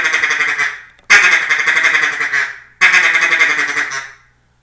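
A person blows a duck call, three long, raspy, nasal quacking blasts with short pauses between them, loud and close, mimicking a duck's quack with no talking.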